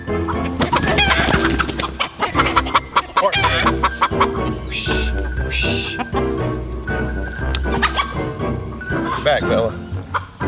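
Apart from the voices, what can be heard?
chickens clucking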